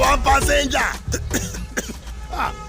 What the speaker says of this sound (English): this guy cough na serious matter